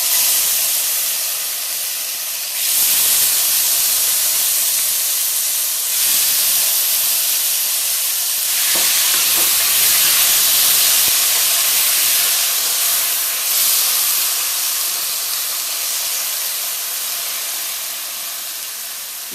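Seasoned beef pieces with marinade, tomato and onion going into a hot caramelized pot for Caribbean stewed beef, giving a loud, steady sizzle and hiss that swells with each new addition and runs throughout.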